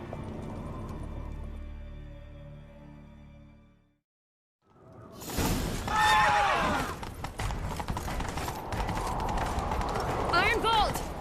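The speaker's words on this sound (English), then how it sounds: "Grab a horse, we'll chase him down." Horse hooves clip-clopping at a gallop in The Witcher 3, a rapid rhythmic drumming that starts after a short silence and continues under game characters' speech and a horse's whinny.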